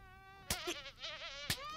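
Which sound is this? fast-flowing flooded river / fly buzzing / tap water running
fly buzzing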